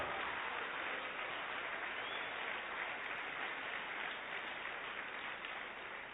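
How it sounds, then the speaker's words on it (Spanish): A church congregation applauding during a sermon, dense sustained clapping from a large crowd that holds steady for several seconds, heard at moderate distance. "Dale un aplauso a Dios."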